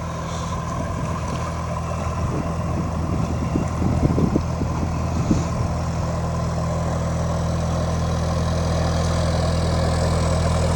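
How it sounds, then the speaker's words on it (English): A narrowboat's engine idles steadily as it passes along the Leeds and Liverpool Canal at Halsall, its low throbbing loud and constant throughout, with a brief rise in churning water and engine noise midway. "Here is the boat."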